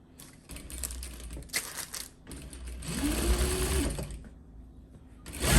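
A sewing machine stitches folded fabric pieces for a twist headband, running in short bursts and a longer steady run, fairly close and moderately loud with no talking.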